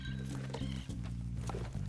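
Horse sounds from the video game Red Dead Redemption 2, with hoof clip-clops and a low snort or whinny under steady game music and ambience, close and continuous.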